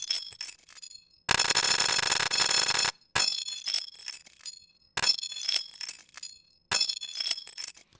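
Granular synthesis in ChucK with the read head advancing 15 ms per grain, producing bright glassy clinking textures in bursts separated by short gaps, with one dense sustained wash in the middle; no talking.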